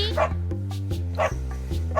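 Dog barking in short repeated bow-wow yips, about four close barks in quick rhythm over a steady low hum.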